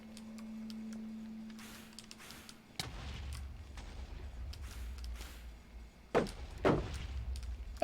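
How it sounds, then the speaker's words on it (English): Explosions go off in a video game: one sharp bang, then two more loud bursts near the end, over a low rumble and scattered game noises, with no talking. "the shield does block the explosion from hitting me then"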